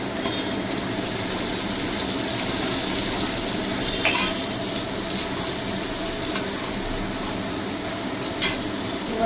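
Chopped garlic sizzling in hot oil in a pan while cooking chicken fried rice, a steady loud frying hiss throughout with a few brief clinks of stirring.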